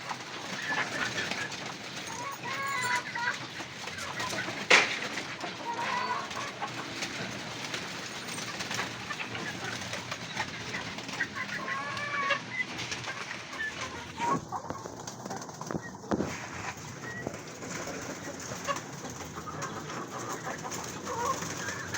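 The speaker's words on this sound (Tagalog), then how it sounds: "Ayan yung mga stock bird natin." Stock pigeons kept in a loft fill the air with a steady chorus of cooing and clucking calls, constant and fairly loud throughout, with no speech.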